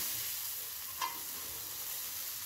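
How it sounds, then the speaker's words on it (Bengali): Water poured into a pan of frying onion, garlic and spice mix gives a steady, faint sizzle with one brief bubbling flare partway through. "এখন আমি জল দিয়ে দেবো।"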